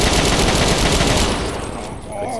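Rapid automatic gunfire bursts loudly in Fallout 3 gameplay, a close rattling stream of shots that thins out and fades toward the end.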